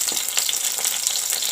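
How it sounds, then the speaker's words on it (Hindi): Onion sizzles steadily in hot ghee as a tadka for curry is started, a close, bright, continuous frying crackle with no talk. "अब ये मैंने घी डाल दिया है और अब मैं इसमें ये डालने लगा हूँ प्याज।"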